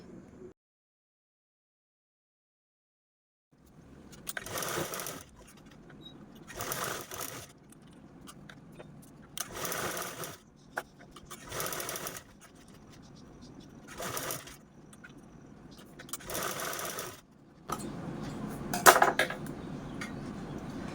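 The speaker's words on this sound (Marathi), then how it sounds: "मी इथे दोन ठिकाणी स्टिच करून घेतलेले आहे" A sewing machine stitches a reused shopping bag in a run of close, steady bursts, each a few seconds long and separated by short pauses, with no talking.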